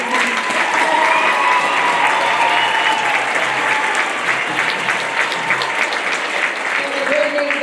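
Sustained audience applause for school band and percussion ensemble performers, a dense wash of clapping with a few cheers and whistles rising above it, holding steady for several seconds.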